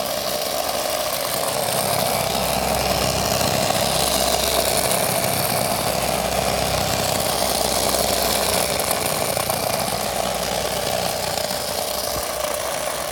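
A small DC motor drives a homemade doodle bot scribbling-robot kit, giving a steady, continuous buzzing whir with a faint rattle that stays even and close for the whole stretch, with no talking.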